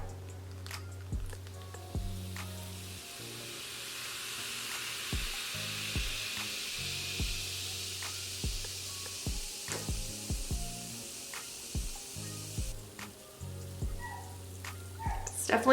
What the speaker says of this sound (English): It's definitely getting all fizzy in there.